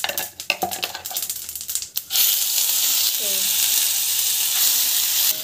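Tempering sizzling in hot oil with mustard seeds, cumin and lentils: scattered clinks and light crackles at first, then a sudden loud, steady sizzle that holds close and strong to the end.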